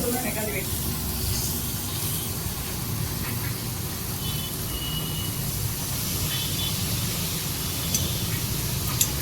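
Washed spinach dropped into hot oil in a pan produces steady, dense sizzling and hissing that carries loudly and continuously for the whole stretch, close up, with faint background sounds.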